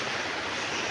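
Steady broadband rush of water flowing through a river area at Cotomines, Zambales, a continuous even wash with no talking.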